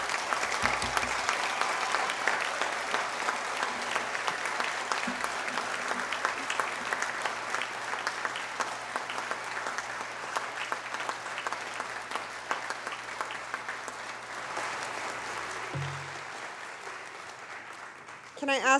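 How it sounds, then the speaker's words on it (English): Sustained applause from a large audience at a graduation ceremony for the graduates, steady and dense clapping filling the room for nearly twenty seconds, with a voice and a brief low thump near the end. "Would you please join me in applauding the graduates?"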